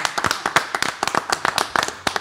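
Applause from a TV studio audience, a rapid burst of dense hand claps heard close and fairly loud throughout, with no talking over it.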